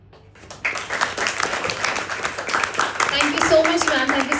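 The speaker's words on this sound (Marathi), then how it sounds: "टाळ्या होऊन जाऊ द्यात" Audience applause at a school book-launch ceremony for a handwritten poetry anthology, a dense sustained clatter of many hands that starts abruptly and builds steadily louder, with some voices mixed in underneath.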